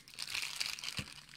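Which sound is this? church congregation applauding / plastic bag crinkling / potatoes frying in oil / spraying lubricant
plastic bag crinkling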